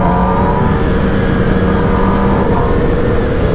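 A Honda CBR superbike on a group ride to Joypur Forest in Bankura gives a loud, close, unbroken engine roar with wind rush and no talking.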